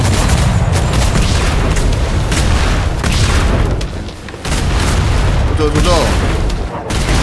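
Heavy gunfire and booming explosions in a video game battle, a loud continuous roar of shots and blasts with a brief lull midway, while players shout over it.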